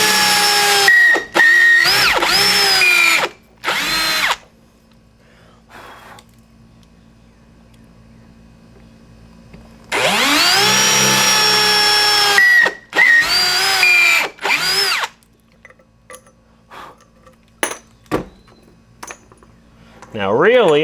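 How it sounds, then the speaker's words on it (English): A power drill bores mount holes into a roof for a solar panel mount, running in several loud whining bursts of a few seconds each with quiet gaps and small clinks between them. "Now we just got to drill our mount holes for the panel and the roof in each of these"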